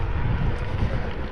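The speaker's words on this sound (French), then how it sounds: "il y a du vent, ouais" Steady wind buffeting the microphone during an electric-assist mountain bike ride on the ridge trail at Soorts-Hossegor, a continuous low roaring rush with no talking.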